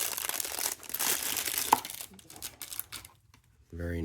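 A plastic bag crinkles and rustles close up as a Pagani Design PD-1767 watch is pulled out of it, in a few seconds of dense crackling that fade before a voice begins to speak.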